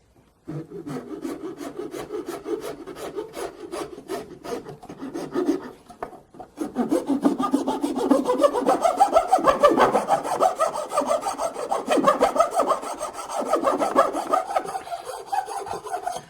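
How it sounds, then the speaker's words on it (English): Flat file rasping across the end of an oak dowel for a stair tread repair, steady back-and-forth strokes close up, lighter at first and then louder and denser for the remainder. "Now all I want to do is take my flat file and just smooth off the end of the dowel."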